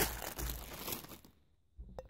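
Plastic bag crinkling as a hard-anodized aluminium camping pan from a Highlander Crest cook set is handled, a busy rustle for over a second, then a pause and a brief final crackle.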